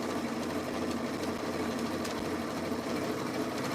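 A sewing machine stitching down a Christmas tea towel runs at a steady, fast, even whir with a fine rhythmic chatter, moderately quiet and uninterrupted, with no voices over it.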